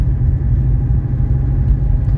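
A 1985 Mercedes 300D diesel with rebuilt front suspension and shocks rumbles along a rough road, a loud, steady low engine and road drone heard from inside the car.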